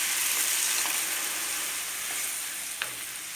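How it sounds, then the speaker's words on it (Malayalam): Snake gourd curry with cooked lentils poured in, giving a steady hiss of frying and simmering with one brief stirring clink near the end, close and even. "പരിപ്പ് വേവിച്ചതാണ് അപ്പം നമ്മൾക്ക് അതുകൂടെ ഒഴിച്ചു കൊടുക്കാം"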